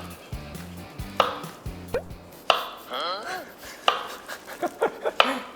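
Knife chopping fruit such as pineapple and banana on a board for juice, a few quick bursts of firm thuds followed by scattered lighter clatters and handling noises at close range.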